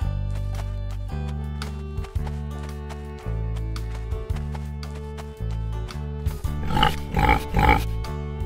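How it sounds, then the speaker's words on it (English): Steady music plays throughout, and near the end three or four loud pig grunts and oinks come through over it. "Pig."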